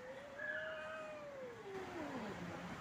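A cat gives one long, drawn-out caterwauling meow that slides downward in pitch, fairly faint and alone over a quiet background hiss.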